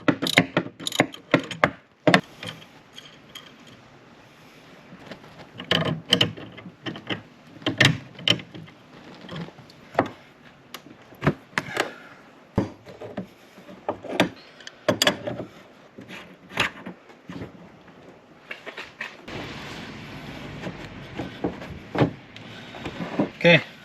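Undoing a boat's steering mechanism during an Intellisteer trolling motor install brings close, irregular metallic clicks, clanks and ratcheting knocks, scattered through the clip, with someone talking at times.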